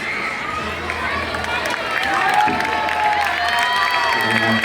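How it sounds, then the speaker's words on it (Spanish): Audience applause and cheering after a Haitian theater piece staged in Mexico: a dense, steady wash of clapping from a crowd that swells slightly halfway through, with voices mixed in. "Un aplauso para los artistas que nos presentaron esta pieza de teatro"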